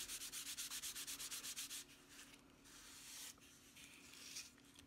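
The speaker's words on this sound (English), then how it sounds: "So get out my embossing buddy, wipe all over it" An embossing buddy pad rubbed back and forth over cardstock gives a quick run of rhythmic close swishing strokes, then slower, softer wiping passes with no talk.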